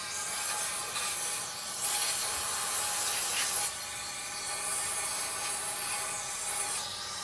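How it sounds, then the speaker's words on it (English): Aerosol cleaner sprayed into the throttle body of a 2003 Cadillac CTS hisses continuously close by, swelling louder for a couple of seconds in the middle, with no voices. "just spray this side again."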